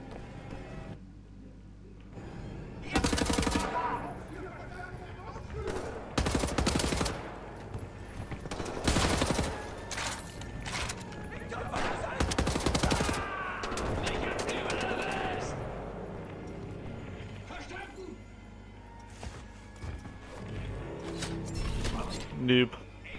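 Heavy gunfire in the shooter game Wolfenstein: The New Order on PS4, loud repeated bursts and single shots spread unevenly across the stretch, with mechanical clatter and faint game background between volleys.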